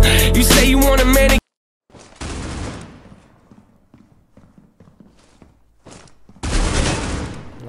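Gunfire in the mobile shooter Critical Ops: a loud dense burst at the start, then scattered shots and clicks fading in and out, and another loud sustained burst near the end, with no talking.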